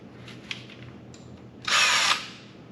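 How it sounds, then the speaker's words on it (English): A power drill bores a pilot hole into wood for screws in one loud burst of under half a second, after a few faint knocks and handling sounds. "Pre-drilling the holes, super necessary again, otherwise you can plan on splitting wood."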